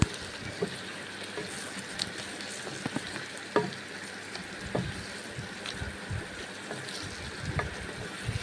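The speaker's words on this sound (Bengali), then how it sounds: "গুঁড়ো মশলাটা দিলাম ভেজে নিচ্ছি নেড়ে চেড়ে" Ground spices fry in a pan while being stirred, a steady close sizzle with soft scraping and occasional light clicks throughout, no voices.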